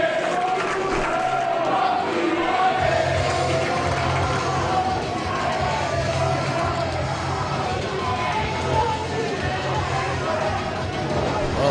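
Wrestling crowd at a Saint Louis Anarchy event in Alton, Illinois roars and chants after a match ends by referee stoppage, a dense, steady wall of voices and cheering that fills the whole stretch.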